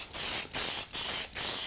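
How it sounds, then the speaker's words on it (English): Q30 aerosol sprays onto printed circuit boards in four short, close, loud hissing bursts with brief gaps between them. "You can spray Q30 straight onto the"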